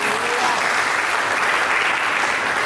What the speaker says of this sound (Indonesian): Mari kita berikan tepuk tangan, Bapak.